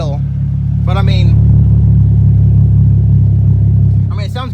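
A Nissan 350Z engine idles with a steady, loud low drone that holds throughout, while someone speaks in short bursts over it.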